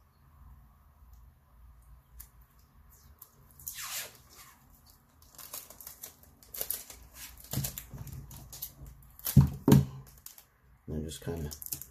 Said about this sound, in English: we'll take some of this Kapton tape here.